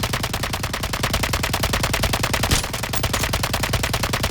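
Sustained automatic gunfire in a ranked video game match: a dense, rapid, unbroken stream of loud shots continuing without pause, with a slightly heavier burst partway through.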